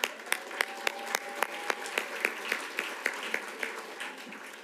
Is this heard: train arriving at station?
no